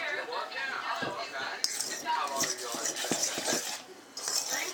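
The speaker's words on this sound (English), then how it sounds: "stir it up really, really well after that" A spoon stirs and mashes soft potatoes with a tuna-style sandwich filling in a bowl, producing scraping and light clinks of cutlery against the dish close up while a person talks over it.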